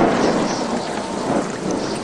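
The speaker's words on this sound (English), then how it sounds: "Boy, it's really coming down out there." Heavy rain pours in a dense steady wash with low thunder rumbling underneath, loud and continuous, a sound effect in a children's cassette story.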